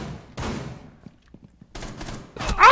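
Gunfire in the tactical shooter Rainbow Six Siege, a few sharp shots and bursts spread across the moment, with a player talking over parts of it.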